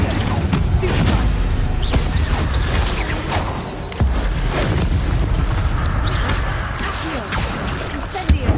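Spell effects in Hogwarts Legacy combat: a constant dense wash of whooshing casts, fiery bursts and thudding impacts, with a voice calling out spell names over the clamor.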